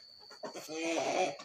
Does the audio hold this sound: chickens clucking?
yes